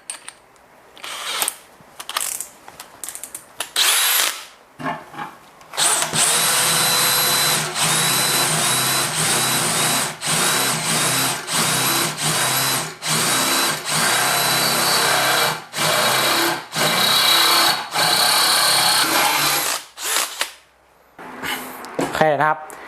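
A DeWalt DCD805 cordless impact drill bores a hole, with a few short trigger pulses and then a long, loud, steady run broken by brief rhythmic pauses, close by.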